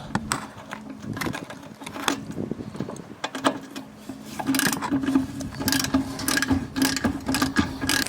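Ratchet tightening the bottom carriage bolt on the rear shock of a 2008-or-later Volvo XC70, heard as repeated close clicking and rasping strokes with a steady hum underneath and no talk.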